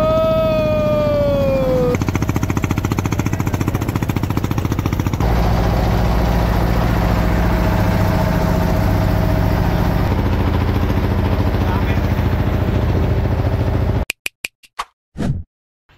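A large wooden trawler boat's engine drones loud and close with a heavy rhythmic chugging thump, a brief tonal whine at the start, ending in a few abrupt knocks and near silence.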